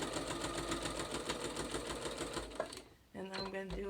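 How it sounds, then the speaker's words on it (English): A sewing machine stitches down a fabric seam in a fast, steady mechanical run that stops abruptly, then starts again, with a voice talking over the motor. "Now I'm going to sew like 1/3 of the way down that seam"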